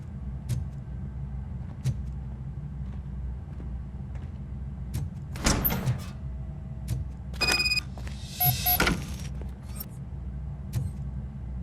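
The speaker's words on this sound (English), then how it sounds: "Now let me get that door open for you." A door opens in the video game RoboCop: Rogue City, with mechanical clunks and a whirring motor over a steady low engine hum, a few sharp knocks along the way.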